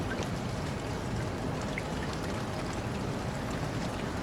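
Steady rain at a truck rest stop with a roofed shelter in the mobile game Truck Simulator Ultimate, a continuous broadband patter and hiss holding evenly throughout, close and fairly loud, with no voices.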